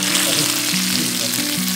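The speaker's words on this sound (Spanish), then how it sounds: "Y lo vamos a dorar, a dorar, que quede bien doradito para hacer una salsita de molcajete" Pieces of pork chicharron frying steadily in hot oil to a golden brown, a dense continuous sizzle with soft crackles, close and fairly loud, with no talk.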